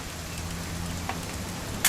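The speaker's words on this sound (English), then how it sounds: "It's gonna rain the whole weekend, isn't it?" Steady rain in the video game What Remains of Edith Finch makes a moderate, even wash of hiss, with a brief sharper burst at the very end and no talking.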